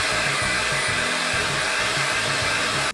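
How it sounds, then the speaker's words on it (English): An electric hand mixer beating chocolate cupcake batter, a loud, steady whirring drone with a faint uneven churn underneath, close by and continuous for about three seconds before cutting off abruptly. "Now we're going to use our mixer to finish mixing it up."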